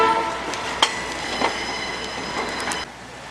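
A Fillmore and Western train rolls along the rails with a steady rumble, faint wheel squeals and occasional clicks, then the noise drops off near the end.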